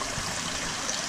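Water spilling continuously from 4,500-gallon tanks into a koi pond filter, a steady broad rushing splash with no breaks, close and fairly loud.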